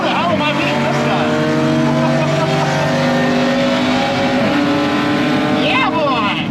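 Audi B8 S4 on a quarter-mile drag pass, the engine pulling hard through the gears with strong rising harmonics and a shift or two, loud and close throughout, with some talk faintly beneath.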